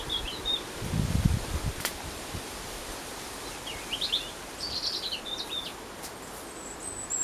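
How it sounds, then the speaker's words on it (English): Wild birds sing nearby in a quiet garden setting, giving short high chirps and trills in scattered bursts over a soft rustling background, with one brief low thump early on. "birds that come like this and sit beside us and sing"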